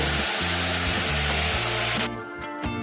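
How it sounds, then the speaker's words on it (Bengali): Water pouring steadily into a large pot set up for boiling milk, a loud broad rushing stream that cuts off after about two seconds and is followed by faint clattering. "দিয়ে দিচ্ছি সামান্য পরিমাণ জল"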